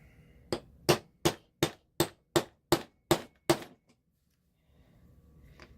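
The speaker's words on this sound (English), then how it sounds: "hammer it from the other side to get the curl over" Nine sharp metallic hammer strikes setting a metal grommet ring out in an even, steady rhythm, close and loud, followed by near silence.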